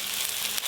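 Chopped tomatoes hit hot oil with fried onion, ginger and garlic, giving a steady, close, hissing sizzle that lasts under a second with no voices.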